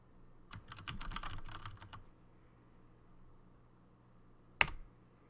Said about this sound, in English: Those are keyboard sounds that I recorded,